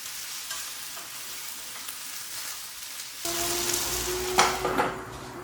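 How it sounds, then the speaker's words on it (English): Vegetables frying in a pan for an Indian tiffin, a steady hiss of sizzling with scraping stirs, getting louder and brighter partway through as the stirring picks up; no voices. "keep stirring it occasionally until both of these vegetables tend to become soft and tender"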